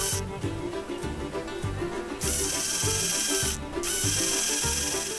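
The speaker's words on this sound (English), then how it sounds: "So here's a new motor with a gearbox. The gearbox has a reduction of 4:1." Small electric motor driving a 4:1 reduction gearbox runs continuously with a rhythmic, whirring mechanical chatter, close up, pausing briefly twice.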